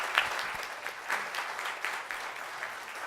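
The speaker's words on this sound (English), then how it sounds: "So let's give them a big round of applause." An audience at a city council proclamation ceremony applauds steadily, with dense continuous clapping that holds at a moderate level throughout, a few louder claps standing out near the start.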